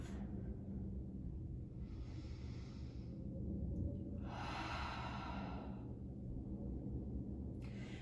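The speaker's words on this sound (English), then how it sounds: "Take a deep breath" Slow, deep breaths during a yoga flow, with long airy inhales and exhales rising and fading in a calm rhythm. The breathing is close but soft, over a low steady room hum, and no one speaks.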